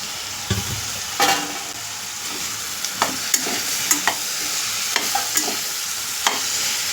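Masala khichdi with soybeans and peas is stirred in a pan on the stove, with a spoon scraping and tapping the pan in irregular strokes over a soft continuous sizzle.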